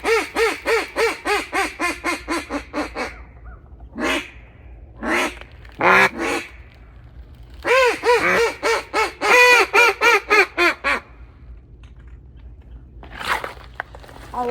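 Duck calls during a waterfowl hunt, a rapid run of loud, close nasal quacks followed by further bursts of honking calls with brief pauses, a faint call near the end.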